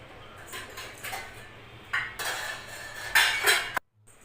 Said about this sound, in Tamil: கடுகு உளுந்தம் பருப்பு போட்டு நல்லா பொரியறதுக்கு வெயிட் பண்ணுங்கள்.